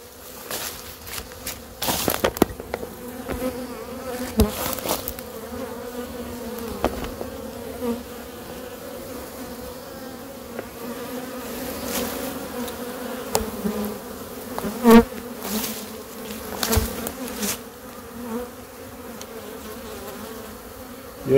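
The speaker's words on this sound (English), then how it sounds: "Yeah, these bees are a little bit ill." A honeybee swarm being caught on a cool, damp day hums in a continuous close buzz, with individual bees flying past the microphone and occasional louder bursts.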